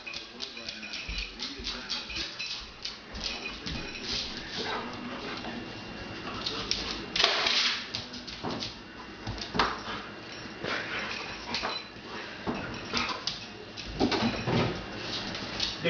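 A dog fetching a beer from a household fridge, with paws, panting and clattering movement close by, plus brief door and bottle knocks, and people talking and calling commands.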